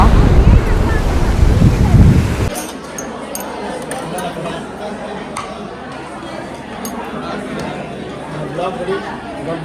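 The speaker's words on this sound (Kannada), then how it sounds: "ಇವತ್ತು ಸ್ವಲ್ಪ ಅಲೆ ಜಾಸ್ತಿ ಇರೋಂಗಿದೆ" Rough ocean surf breaks on a beach at Kundapura, a loud rushing wash for the first couple of seconds before fading under wind noise and nearby chatter from people.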